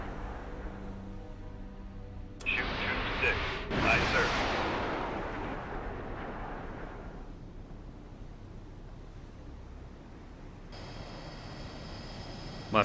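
An anti-ship missile fires from a submarine in the naval video game Cold Waters, a sudden loud rushing blast that roars and then fades into a long, low rumble. A voice speaks briefly near the start.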